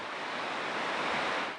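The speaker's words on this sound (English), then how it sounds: "Oh God, it's windy." Wind roars across a mountain suspension bridge slung high above a gorge, a steady, close, full-bodied rush that swells slightly and fades, with no voices.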